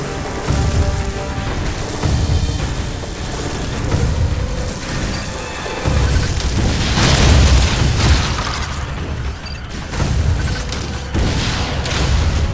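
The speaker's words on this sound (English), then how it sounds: "Now, use your missile!" Missile explosions in the video game Metroid: Other M, a run of loud booming bursts layered over a dense, roaring game soundscape for the whole stretch, with no talk.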